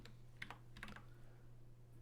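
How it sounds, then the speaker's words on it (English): Quiet typing on a computer keyboard, a few scattered soft key clicks in short clusters over a steady low hum, with no talk. "I need to finish typing this in."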